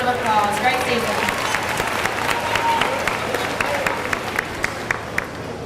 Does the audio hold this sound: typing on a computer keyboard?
no